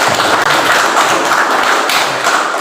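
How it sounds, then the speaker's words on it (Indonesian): A class gives a student named Yusuf a round of applause, a loud, continuous wash of many hands clapping close by, steady throughout with no talking. "Tepuk tangan buat Yusuf."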